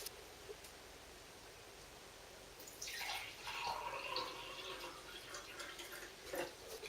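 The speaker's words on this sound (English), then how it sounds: "So the best thing to do is to pour it into a separate vessel." Water is poured from one vessel into another while making mead, a faint, quiet trickle and splash that starts partway through and carries on softly to the end.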